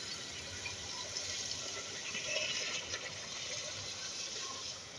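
A steady rushing pour of water into a pot, continuous and fairly loud, with a slight swell in the middle before it eases off.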